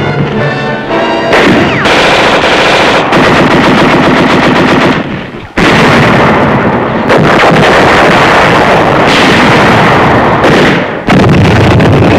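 Heavy machine gun fire in a WWII Pacific battle at Los Negros rattles in long continuous bursts, loud and close, with brief pauses between volleys and booming impacts mixed in.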